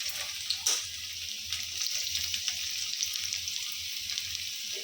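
Chopped garlic sizzling in hot oil in a wok over a low flame: a steady, close frying hiss with faint crackles and occasional stirring clinks, no voices.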